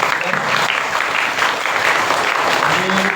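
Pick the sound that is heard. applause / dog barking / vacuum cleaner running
applause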